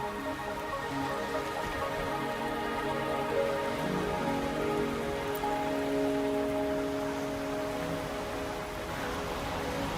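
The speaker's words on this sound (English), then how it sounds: "Are you trapped here by the rain?" Steady rain falling in the video game Wuthering Waves, a continuous even patter with soft tonal ambience underneath, constant and unbroken with no voices.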